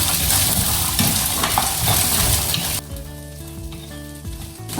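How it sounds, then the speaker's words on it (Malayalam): Green beans stir-fried in a hot pan for a Kerala-style upperi, a loud steady sizzle with scraping stirs that drops to a quieter bubbling fry partway through, with no voices. "അപ്പോൾ നമുക്ക് പയറും കൂടെ ഇട്ട് കൊടുക്കാം. ഒന്ന് ഇളക്കി കൊടുക്കാം."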